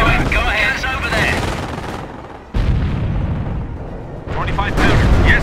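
Battle from Company of Heroes, the Operation Bluecoat 1944 mission with a Churchill tank: loud booming cannon blasts and rumbling gunfire in heavy waves, with voices calling out amid the combat.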